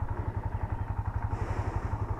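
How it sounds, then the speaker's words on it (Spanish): Italika Z150 motorcycle idling right after a remote-alarm start, a steady low, pulsing engine thrum, close and even throughout with light mechanical clatter. "Está arrancada la motocicleta, como pueden ver"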